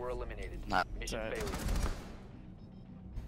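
Gunfire in a Ubisoft video game plays as a burst of shots in the middle, with a player's voice talking over the game audio.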